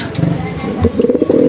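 Racing pigeons cooing close by in a loft after a training flight in Los Baños, Laguna: soft repeated low coos in short rhythmic phrases, with a faint murmur in the background.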